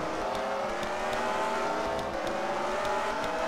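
Race cars in a video game stock-car event, the Hershey's Kissable 300, roar in a dense, steady engine drone that never lets up, loud and close throughout, with no voices.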